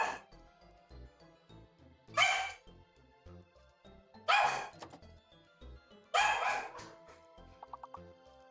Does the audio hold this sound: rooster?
no